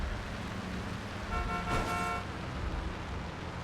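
One vehicle horn honks in Earth Defense Force: Iron Rain, a single clear toot of about a second, rising over steady engine and roadway noise.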